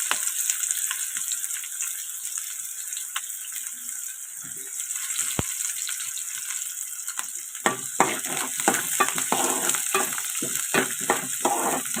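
Onions and green chillies frying in hot oil with tempering seeds, a steady close sizzle throughout, joined by rattling stirring scrapes in the pan during the second half.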